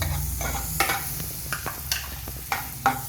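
Chopped onion sautéing in butter and oil in a pan over medium heat, a steady soft sizzle broken by several sharp scrapes and stirs of a spoon, with no talking.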